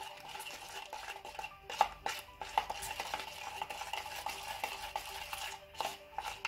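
Soft, slick stirring of a brown slime mixture in a bowl, with irregular wet scrapes and light taps of the utensil against the side, quiet and close with no talking.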